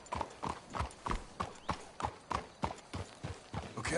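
Horses walk in Red Dead Redemption II, their hooves beating a steady, even clip-clop rhythm that sounds close and clear, with no voices over it.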